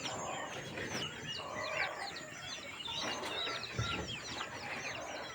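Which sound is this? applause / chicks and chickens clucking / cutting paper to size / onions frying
chicks and chickens clucking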